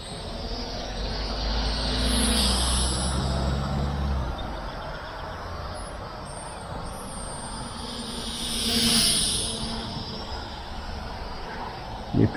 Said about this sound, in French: Il est plutôt silencieux ce petit drone hein